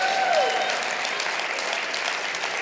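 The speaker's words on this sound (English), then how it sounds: "Thank you for all seven of you that clapped." A small church congregation claps during a Sunday sermon, a short burst of scattered applause from a few people that holds steady for a couple of seconds.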